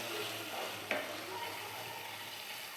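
Amudi fish curry with added water being stirred in a pan, a soft steady simmer and sizzle throughout with one brief scrape of the spoon near the start, no talk.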